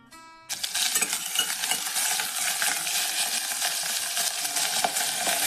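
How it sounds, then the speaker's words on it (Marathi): Ginger garlic paste hitting melted butter in a pan, a sudden bright sizzle that flares up and keeps crackling steadily, close and loud, with faint stirring clinks. "आता त्याच्यात अद्रक लसूणची पेस्ट टाकते"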